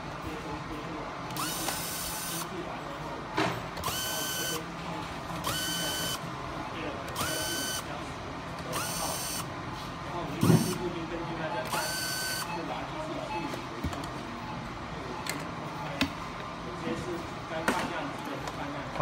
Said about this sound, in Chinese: 拆掉六个小螺丝